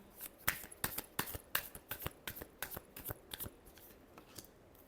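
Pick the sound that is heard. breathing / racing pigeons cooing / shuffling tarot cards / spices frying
shuffling tarot cards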